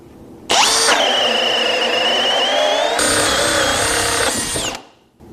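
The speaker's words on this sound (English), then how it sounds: "Even drilling through thicker timber with a cordless drill," A cordless drill fitted with a FISCH self-feeding bit bores through thick timber, a 2x6, a loud, close whine with a pitch shift midway, grinding on for about four seconds before spinning down.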